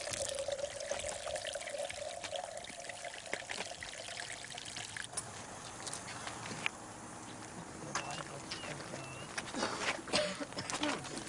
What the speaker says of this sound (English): as we drain the water, you'll see there'll be no rotation. It just drains straight down.